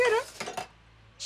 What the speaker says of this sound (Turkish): bulaşıkları yıkayayım, geliyorum